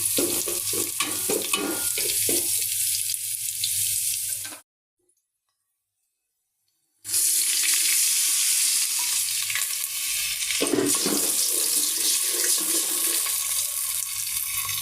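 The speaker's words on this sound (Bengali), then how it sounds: "আমি খিচুড়ির জন্য এই যে পেঁয়াজটা ভাজা শুরু করে দিছি" Onions for khichuri sizzle and crackle in a pan with bay leaf and whole spices, occasional stirring scrapes, loud and close, interrupted by a brief stretch of silence midway.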